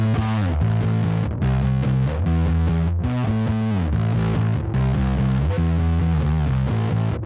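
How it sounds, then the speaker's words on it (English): Bass guitar runs through a JHS Legends of Fuzz pedal set to a distortion-like overdrive voice, giving a loud, hairy, driven riff of repeated chugging notes with short breaks, played alone. "your main knob here on the right says Distort instead of Fuzz, so this one does feel to me a little bit more like an Overdrive or a distortion"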